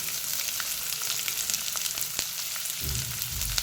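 Two finely chopped onions sizzle in hot oil in a pan for a paneer curry, a steady crackling fry with occasional stirring scrapes and a heavier stir near the end.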